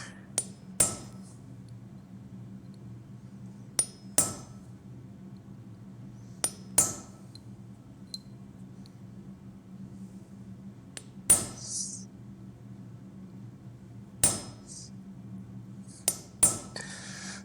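A hammer lightly taps a short chisel to engrave a line in metal for a forged Viking rune necklace: a dozen sharp, bright metallic clinks at irregular intervals, alone over a low steady hum.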